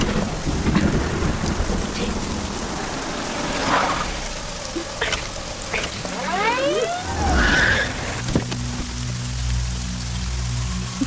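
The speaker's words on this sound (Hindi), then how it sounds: "बरसात है ना" Heavy rain pours steadily with thunder rumbling and cracking throughout, a loud storm setting with no one talking.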